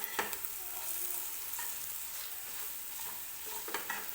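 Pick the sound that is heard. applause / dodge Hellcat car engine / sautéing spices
sautéing spices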